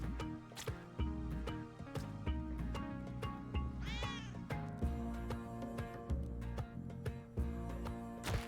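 A cat meows in the video game Blue Prince, a rising, wavering cry heard over steady rhythmic game music.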